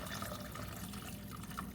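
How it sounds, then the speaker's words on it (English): Hot water for a seafood boil pours steadily into a pot, a continuous soft liquid rush with faint splashes, fairly quiet and close. "So now I have 4 cups of hot water."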